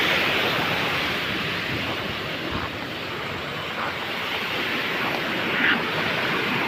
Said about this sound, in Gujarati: બહુ પાણી આવે છે. પાણી નદીમાં એટલું હાલ્યું જશે.